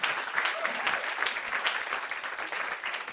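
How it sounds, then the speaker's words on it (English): Studio audience applause at a 2017 late-night comedy show taping: a dense, steady roar of many hands clapping together, loud and sustained throughout without letting up. "A round of applause for Wyatt, everybody."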